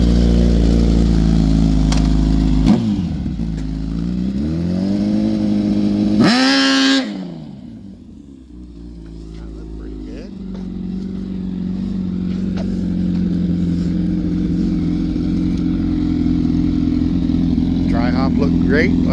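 A Gen 3 Suzuki Hayabusa drag bike engine at the XDA Finals 2024 sits close and loud, revving up and down in sweeping pitch swings before dropping back to a steady, throbbing idle.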